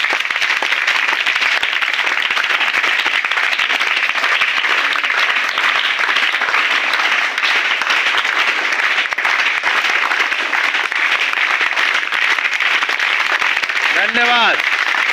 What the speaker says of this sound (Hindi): के कार्यक्रम की शुरुआत जो है जोरदार तालियों से करते हैं।